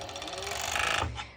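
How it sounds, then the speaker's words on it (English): A serger trims and overlocks a fabric edge on a sporty crossed-strap top in a short, loud, buzzing burst that cuts off abruptly. "So I'm actually serging a tiny bit."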